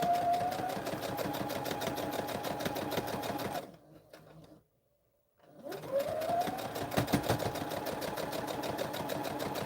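Close sewing machine stitching cotton fabric in a fast, steady rattling run, stopping briefly for a second of near silence before starting up again and continuing at the same pace.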